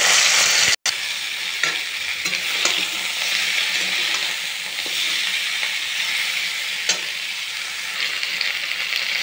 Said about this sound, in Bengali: তেল গরম হয়ে গিয়েছে, এর মধ্যে এবার আমি একে একে সব সজনে ডাঁটাগুলো দিয়ে দেব